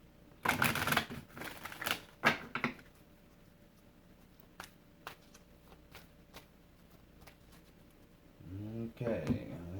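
Tarot cards shuffled by hand during a reading, several quick papery riffles and taps near the microphone, then a quieter pause with faint clicks, and a voice begins speaking at the end.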